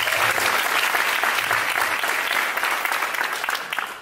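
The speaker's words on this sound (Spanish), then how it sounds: "Hay que darle un fuerte voto de aplausos también." Seminar audience gives strong, sustained applause, with a continuous dense roar of many hands clapping, loud and even throughout, tapering slightly at the very end.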